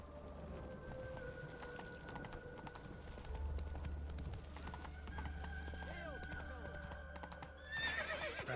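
Roach, the horse in The Witcher 3, galloping with rhythmic hoofbeats, a whinnying neigh rising near the end, with game music and ambience underneath.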